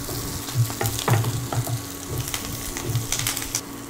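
Green chillies, curry leaves and cashews frying in hot oil with chopped onion, a steady close sizzle with irregular crackles and pops throughout.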